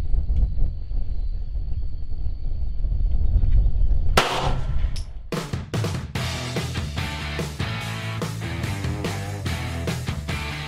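A handgun fired downrange at a shooting range: after a few seconds of quiet outdoor ambience, a loud close series of sharp, cracking shots comes in an uneven rhythm, each one ringing out briefly.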